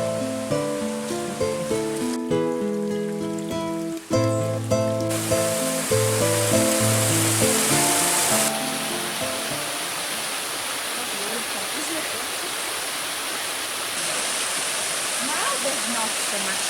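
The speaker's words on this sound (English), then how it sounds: "Not so much water in the river" A shallow river near Varenna rushes with a steady broadband hiss. Music plays for the first half, and a voice speaks over the water.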